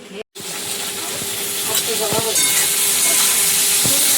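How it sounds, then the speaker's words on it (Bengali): Eggplant fries in a pan with a loud, close, continuous sizzle that swells after a brief cut, with occasional spatula knocks and scrapes. "একটু বেগুন ভাজা করছি।"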